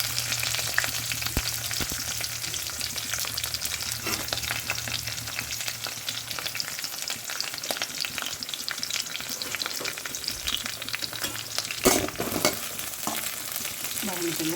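Onions sizzle steadily in hot oil in a pan, with scraping stir strokes breaking through now and then across a continuous, close frying hiss.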